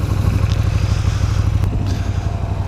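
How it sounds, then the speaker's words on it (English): A 2015 KTM Super Duke 1290 R motorcycle engine runs loud and steady close by, with a deep throbbing rumble and faint clatter throughout. "2015 KTM Super Duke 1290R"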